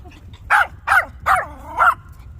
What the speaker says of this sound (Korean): 왜 이렇게 짖었어?